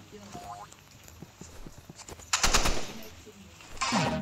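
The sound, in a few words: sniper gunfire in a video game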